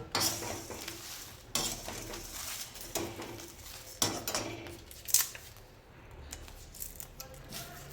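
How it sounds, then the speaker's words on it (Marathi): Dried, crisp bay leaves snapped by hand into small pieces in a kitchen, a faint series of sharp crackles and clicks in uneven bursts, close up, with no talk. "तेजपत्ता थोडासा कडक झाला की याचे असे बारीक तुकडे करून घ्यायच्या आहे"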